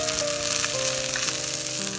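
Garlic sizzling and frying in hot oil for a raw mango chutney tempering alongside mustard seeds, cumin, urad dal and red chilli, a steady close crackle throughout with no talk.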